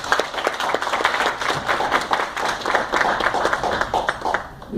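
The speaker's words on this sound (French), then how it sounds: "Applaudissez s'il vous plaît." An indoor audience in Cincinnati, Ohio, at a political gathering with former prime minister Adolphe Muzito applauds, steady dense clapping sustained for about five seconds before tapering slightly at the end.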